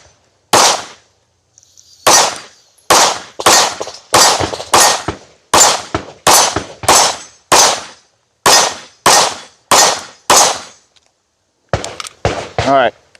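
Kimber KDS9C pistol firing a rapid string of about fourteen loud, sharp shots in a steady rhythm, each followed by a ringing clang from steel targets, with a quicker burst of shots at the end.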